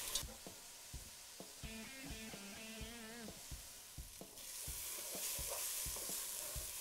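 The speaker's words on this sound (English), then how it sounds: "and onions to the pan with our pancetta to wilt down till nice and soft." Onions and vegetables softening with pancetta in a pan for a duck Bolognese, with steady stirring scrapes and a soft sizzle, plus a brief tonal hum partway through and a brighter hiss toward the end.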